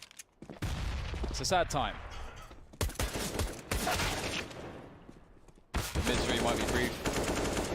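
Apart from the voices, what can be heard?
pistol gunfire in video game Counter-Strike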